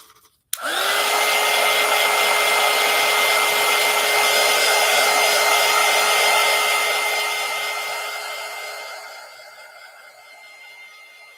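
A hair dryer blows steadily on a collage craft project at close range, a loud continuous whoosh with a steady motor whine that runs for several seconds before slowly tapering off.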